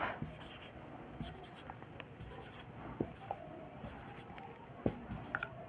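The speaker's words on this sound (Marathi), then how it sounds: "मी एक नंबर लिहितो" A pen writes a number on paper during a Marathi maths lesson, giving soft, close scratchy strokes with a few small taps, fairly quiet and with no talking.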